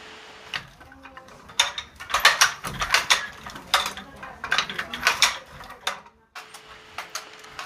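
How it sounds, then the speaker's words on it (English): Silk workers at Inle Lake, Burma, operate wooden weaving machines, giving a busy run of clacking, knocking mechanical strokes in irregular bursts, fairly close and clear, with a brief lull near the end. "we watched a couple of other ladies working their machines"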